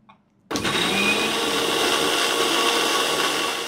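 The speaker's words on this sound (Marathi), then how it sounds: "आता मिक्सरला लावण्याची पेस्ट करून घ्यायची आपल्याला।" A mixer grinder switches on abruptly and runs steadily, grinding onion and cashew with a little water into paste, a loud continuous whirring buzz close by with no talking.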